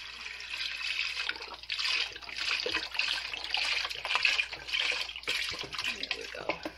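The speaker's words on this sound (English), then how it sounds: "And we're just going to pour the whole thing in there." Vegetable broth pours steadily into a pot of vegan beef stew, a continuous splashing trickle that swells and eases over several seconds.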